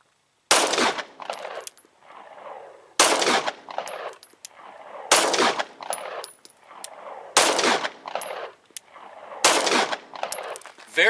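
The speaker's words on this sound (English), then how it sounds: "So let's run 5 of those through here and see what happens." A CZ P-10c pistol fires five frangible rounds, five sharp, loud shots spaced about two seconds apart, each followed by a short echoing ring-out, with no talking.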